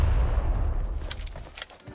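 A deep, rumbling grenade explosion in PUBG Mobile followed by several sharp cracks of gunfire, loud and close, with no talking.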